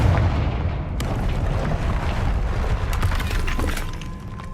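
A Confringo blasting spell from Hogwarts Legacy explodes with a loud, booming blast followed by a rumbling, crackling tail of debris that slowly fades.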